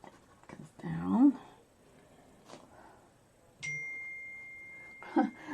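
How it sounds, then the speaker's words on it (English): A phone gives a clear electronic ding notification that rings on with a long steady tone, set between brief bursts of quiet speech and small studio noises. "My phone is going nuts."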